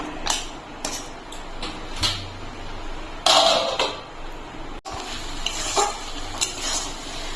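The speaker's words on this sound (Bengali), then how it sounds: "আমি সবকিছু ভালো করে মিশিয়ে আবার ঢাকা দিয়ে দেবো।" A spoon stirs and mixes papaya curry with sugar in a pan, making loud scraping and clattering strokes with sharp metal knocks and a sizzling burst partway through, and nobody speaks.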